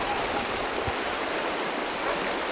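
The Paz river rushes past close by in rural cattle country near Palacioruiz, a steady, full-bodied wash of flowing water with no breaks or voices.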